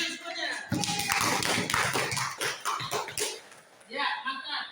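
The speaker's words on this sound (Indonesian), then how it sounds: "Tepuk tangan semuanya" Classroom students clap together after a group presentation, a short burst of fairly close hand claps that fades into scattered taps and murmuring voices.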